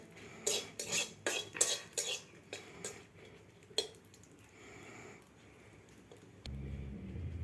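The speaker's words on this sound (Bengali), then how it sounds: "তেলটা দিলে লঙ্কা ভাজতে খুব চট জলদি হয়ে যায়" Green chillies cooked in a little oil for a pointed gourd paste are stirred with a metal utensil, giving a run of sharp clattering scrapes against the pan, then quieter stirring and a brief low sizzle near the end.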